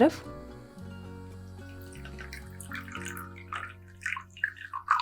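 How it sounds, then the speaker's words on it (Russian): Cold water is poured from a container onto instant gelatin in a bowl, a short bright trickle and splash that turns into scattered drips, while someone talks over it. "Заливаю желатин холодной водой."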